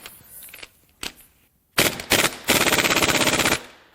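Cam gear bolts are removed from a Subaru EJ20X turbo engine during a teardown. Two quick taps come first, then loud rattling bursts, and a long steady hammering burst runs for about a second before it stops.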